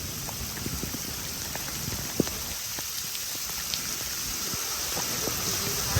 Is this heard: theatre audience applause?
no